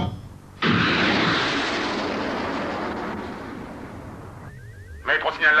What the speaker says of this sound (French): on signale la présence d'un avion qui se déplace dans notre direction.